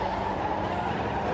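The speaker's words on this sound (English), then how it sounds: "you can hear the tortured squeal of the tyres" Race cars' tyres squealing at Silverstone during a racing festival, under a dense, loud blend of V8 engine roar and crowd-level noise, continuous and without talking.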